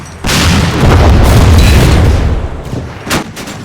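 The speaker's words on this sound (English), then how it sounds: "multiple German half-tracks and armored cars are caught out in the open, and engaged with 50 caliber machine gun fire" Heavy .50 caliber machine gun fire in a World War II combat game, a loud sustained burst of booming shots followed by a few isolated reports as it tapers off.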